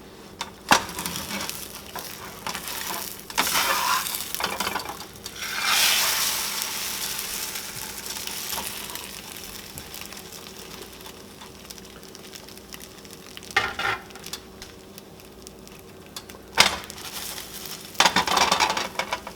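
Scrambled eggs in a hot pan sizzle steadily while a spatula scrapes the bottom and folds them, with intermittent scraping strokes and clicks against the pan up close, and no talking.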